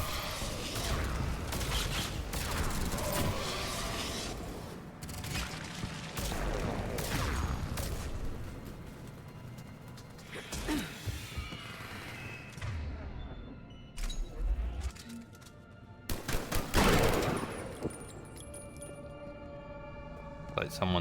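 Rockets and gunfire aimed at the player in Mass Effect 3 combat, loud sustained shooting and blasts with thuds and mechanical clanks, later a few sharp bursts near the end, mixed under frequent speech from a player and game characters.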